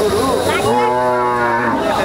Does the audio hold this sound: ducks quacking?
no